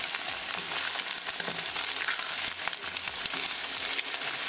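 Garlic and green chili fry in a hot pan for a tofu stir fry, giving a steady, close sizzle with dense crackling throughout and no talking.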